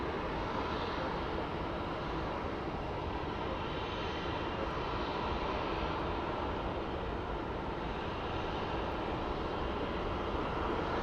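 A steady, distant jet engine roar from an airplane taxiing at Phoenix Sky Harbor International Airport, a broad, even rumble and hiss that holds constant and faint for about eleven seconds.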